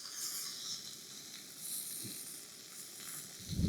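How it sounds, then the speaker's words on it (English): Food fries in a small pan in a forest hut, giving a soft, steady sizzling hiss that holds evenly and then flares louder at the end. "Just let them fry for a minute, and then turn the heat down, and then throw in some butter."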